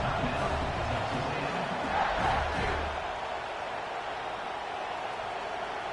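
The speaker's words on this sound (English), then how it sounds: "This crowd trying to do its part to get inside the kicker's head." Football stadium crowd at a Texas A&M game roaring during a fourth-down field goal attempt, a steady dense wash of noise that swells briefly then settles, with commentary voices under it.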